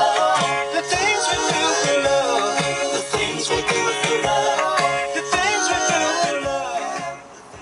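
Music plays loud and clear through the AM/FM CD stereo of a 2011 Chevrolet Silverado, a full band with steady beat and melody filling the cab, fading down at the very end.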